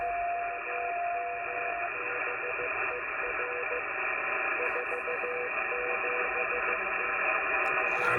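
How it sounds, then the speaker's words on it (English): Morse code received over an amateur radio, a faint keyed tone beeping in short irregular bursts beneath steady radio hiss and band noise. "So now somebody's sending me code."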